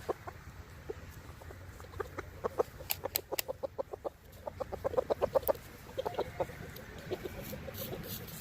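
Several close rooster clucks in a rapid, uneven series over a low farmyard murmur, the clucking growing busier toward the middle.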